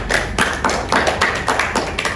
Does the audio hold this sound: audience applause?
yes